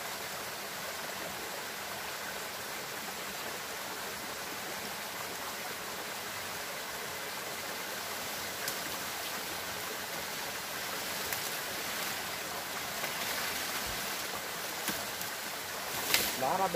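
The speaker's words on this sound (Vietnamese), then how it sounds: "Đây con suối nó chảy dài suốt về đây nhá mọi người nhá." A forest stream flows steadily on hilly, steep ground, a continuous broadband rush of water at moderate distance, unbroken and even throughout with no voices.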